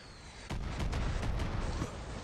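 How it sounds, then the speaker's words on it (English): Mortar rounds thud repeatedly in Far Cry 6 combat, a cluster of heavy booms starting abruptly and rolling on for over a second amid a dense, rumbling wash of gunfire and blasts. "Are you firing there. Mortars?"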